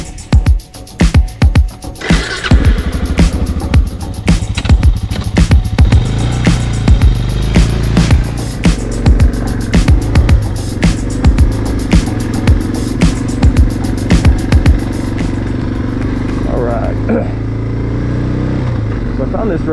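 A dual sport motorcycle rides along logging roads, its mid-pitched engine droning steadily with repeated throttle pulses and bumps, while a rider talks over the engine noise.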